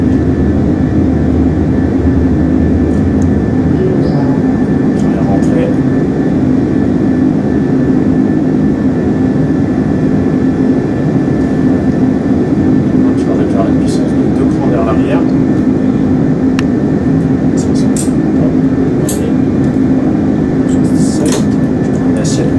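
Airbus A330 airliner at rotation during takeoff, a steady loud roar of jet engines and airflow filling the cabin without letup, with faint clicks on top.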